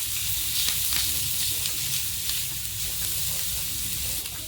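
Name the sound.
chopped green chillies stirred and frying in a pan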